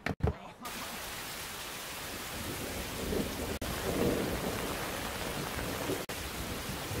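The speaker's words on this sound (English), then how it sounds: "it's raining outside!" Steady heavy rain pours outside with rolling thunder swelling in the middle, a loud continuous wash of noise after a brief opening pause.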